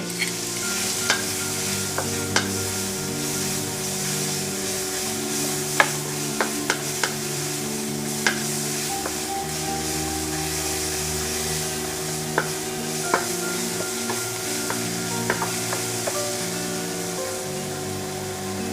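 Pounded garlic, coriander root and black pepper stir-frying in rice bran oil in a pan, with a constant close sizzle and frequent sharp ticks of the spatula scraping the pan.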